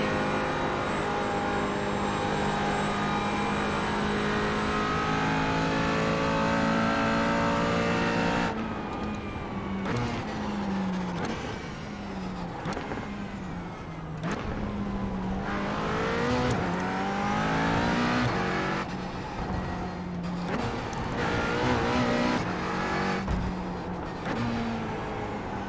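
A GT4 race car engine in iRacing at the Iowa Speedway Roval, holding a steady high drone before dropping into repeated rising and falling revs through gear changes, loud and continuous with other cars nearby.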